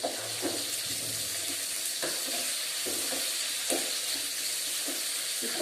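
Onions and green chillies fry in a pan for poori curry, a steady broadband sizzle running throughout with periodic scraping stir strokes and clinks, close and fairly loud, no voices.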